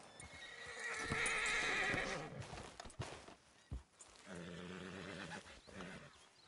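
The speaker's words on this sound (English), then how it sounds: "Let me hitch my horse." A horse in Red Dead Redemption 2 gives a loud whinny, followed by snorting and a few hoof clops, all close and fairly quiet overall.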